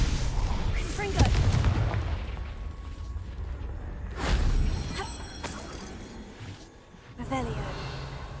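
Confringo fire spell blasts cast in Hogwarts Legacy, a few loud bursting booms spaced several seconds apart over background game ambience, with voices also present.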